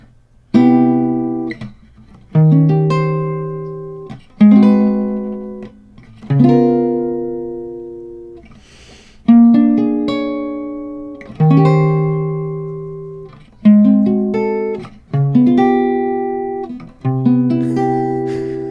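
Jazz guitar chords strummed one at a time in a slow I-VI-II-V turnaround with tritone substitutions, each ringing out and decaying before the next, with jazzy, unusual harmonies.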